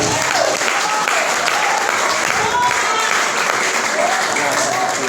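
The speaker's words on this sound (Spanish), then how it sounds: "Alguien puede darle un aplauso al Rey de Reyes." A church congregation applauds during a worship service, steady dense clapping that stays loud and even from start to finish, with voices mixed in.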